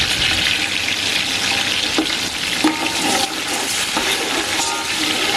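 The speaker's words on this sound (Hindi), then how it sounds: "और इसे भी हल्का सा फ्राई कर लेंगे।" Ginger paste frying in a pan for kadhi pakora, a loud continuous hiss and sizzle with occasional scraping taps, close by and with no voices.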